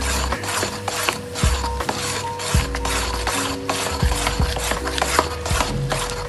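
Mixed fruits being folded into Jamaican rum cake batter in a bowl: a steady run of wet scraping and rubbing strokes with soft thuds as the spoon turns the thick mixture, close and fairly loud.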